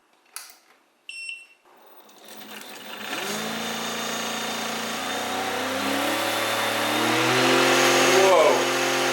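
Homemade brushless LEGO motor spinning a larger 3D-printed propeller, a few clicks, then a whine that spins up and holds a steady, gradually louder high-pitched buzz, close by.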